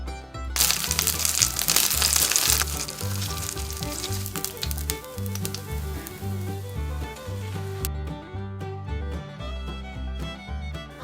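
Nori-wrapped enoki mushroom bundles fry in hot oil with a steady, close crackling sizzle that is brightest at first, then continues beneath rhythmic background music.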